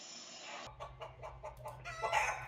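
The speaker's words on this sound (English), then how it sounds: "Right, those are chickens." Chickens cluck and crow faintly in the background, a short burst of bird calls heard through a Logitech Zone Vibe Wireless headset microphone.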